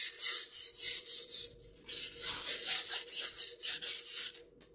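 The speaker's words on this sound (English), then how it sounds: "I'm turning the carbon spar while holding sandpaper around it." Sandpaper wrapped around a carbon spar for an FPV wing build, rasping steadily as the spar is turned, giving a loud, close, rhythmic scratching in quick repeated strokes that fades out at the end.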